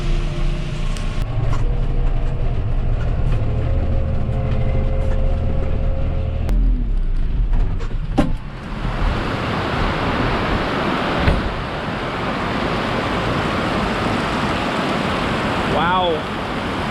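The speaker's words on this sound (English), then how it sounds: "It's starting to rain pretty hard now." Heavy rain pours down on a farm, a dense, loud, steady hiss that grows fuller and rougher partway through as the downpour strengthens.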